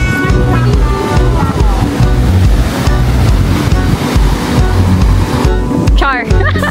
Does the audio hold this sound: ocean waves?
yes